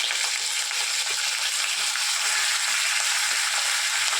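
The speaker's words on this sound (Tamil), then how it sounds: "ஒரு கடாயில் எண்ணெய் ஊற்றிருக்கேங்க. இப்போ நம்ம எடுத்து வச்சு சிக்கனை அதில் போட்டுருக்கோம்." Continuous loud sizzling and crackling of chicken frying in hot oil in a pan, steady throughout with no voices.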